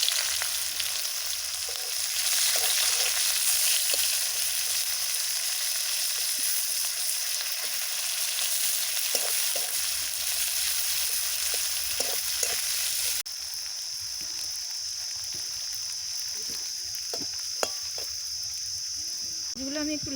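Sliced onions frying in a pan for a catla fish do pyaza: a continuous, bright, hissing sizzle, close and steady, that drops noticeably quieter partway through and carries on without speech.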